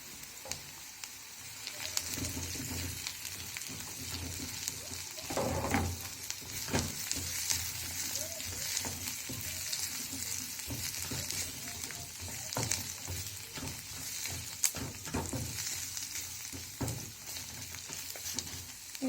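Carrots stir-fry in a hot pan for vegetable hakka noodles, giving a steady close sizzle with repeated scraping and tossing strokes throughout.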